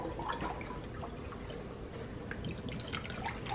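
Evaporated milk pours steadily into a large bowl, a continuous soft liquid splash and trickle with a few drips, close and fairly quiet.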